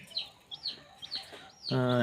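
Chickens at a poultry setup with a heat-lamp system for young chicks give several soft, short clucks at close range, spaced irregularly, before a louder tonal voice or call takes over at the end.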